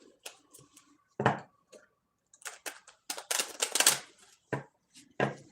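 Tarot cards are shuffled by hand up close in a quiet room, giving short bursts of riffling and flicking with gaps in between.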